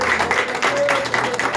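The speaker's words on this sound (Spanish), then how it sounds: "Yo creo que el Señor merece un aplauso más fuerte" A church audience applauding loudly in a dense, continuous wash of clapping during a worship service, with voices mixed in beneath it.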